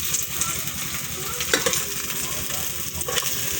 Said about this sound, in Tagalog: Una, igisa ni mo ng panakot.